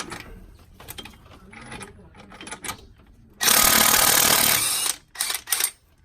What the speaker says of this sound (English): We got to take out the crankshaft bolt.